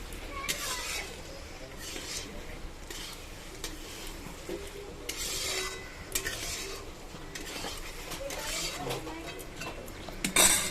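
Potatoes that were fried earlier are stirred and cooked in a pan for an Odia egg curry, with steady spoon scrapes, clinks and a soft sizzle running throughout, loudest near the end.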